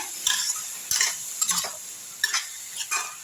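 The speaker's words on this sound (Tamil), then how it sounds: "இப்போ நல்லா வதக்கி விட்டுருங்க" Kasuri methi chicken gravy sautéing over a high flame in a pan: a close, soft sizzle with several distinct metal-on-pan scrapes as a spatula stirs in irregular strokes. No speech.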